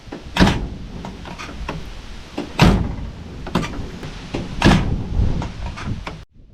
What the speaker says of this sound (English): I also have to fix this door because sometimes it doesn't latch.